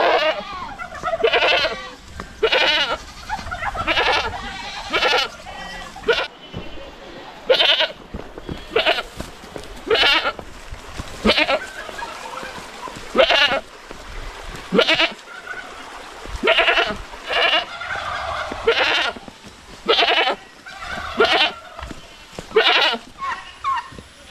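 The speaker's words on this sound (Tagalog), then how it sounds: "Welcome sa ating mga kambing dito." Goats on a farm bleat loudly and repeatedly, close by, with calls coming in a steady series of separate bursts spread across the whole stretch.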